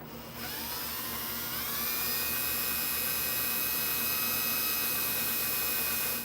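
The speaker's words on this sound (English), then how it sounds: "we'll come back with that drill bit and get through our frame" A drill bit bores through a truck frame with a loud, steady, high-pitched whine that starts abruptly and climbs a little in pitch, running continuously with no talk.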